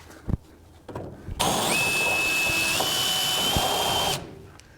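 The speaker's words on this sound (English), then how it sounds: "We're going to drill a 1/4 inch hole right there." A power drill whirs steadily for about three seconds, drilling a 1/4 inch hole in a metal crossmember, close and loud, after a few light clicks and taps; no talking.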